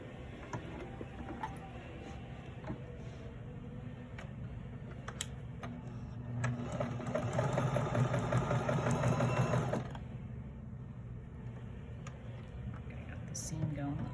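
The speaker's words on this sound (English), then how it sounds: "So I'll bring it over to the sewing machine." Sewing machine running steadily while a quilt block seam is stitched, a continuous mechanical whir that grows louder and busier in the middle stretch, under a quiet background.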